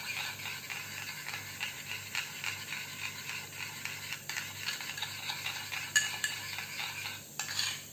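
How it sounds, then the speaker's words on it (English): Vegetable salad tossed with utensils in a bowl, giving a steady, soft scraping and clinking that carries on through the whole stretch, close up, with a sharper tick near the end and no talking. "just try to mix it together, blend the whole"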